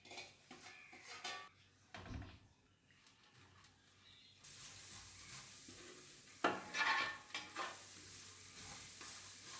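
Grated coconut, two coconuts' worth, being roasted and stirred in a pan for Kerala aval vilayichath. A spoon scrapes and clinks against metal in bursts, with a soft hiss of sizzling beneath that rises toward the end.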